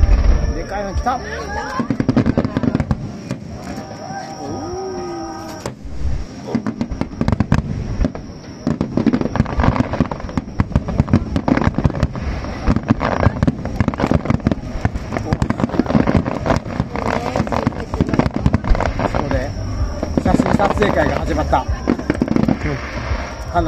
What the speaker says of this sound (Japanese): 花火をバックに